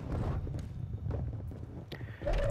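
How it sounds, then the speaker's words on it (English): Footsteps thud and scuff in Call of Duty gameplay as a player moves, a string of uneven close steps over a muffled background rumble. "He hears the footsteps"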